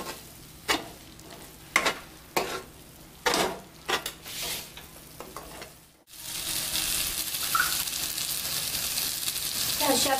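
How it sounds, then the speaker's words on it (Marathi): Spice mixture sautéing in oil in a pan, with a series of scraping, clattering stirs at first, then a steady, denser sizzle after a brief break. "अशा प्रकारे मी मिश्रण सगळं तेलामध्ये चांगलं परतून घेतलेलं आहे तेल सुटेपर्यंत"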